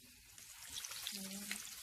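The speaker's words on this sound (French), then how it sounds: "Là, je vais le mettre à frire." Fish or alloco plantain slices sizzling as they go into hot oil, a soft, steady crackle close by, with faint low voice murmurs beneath.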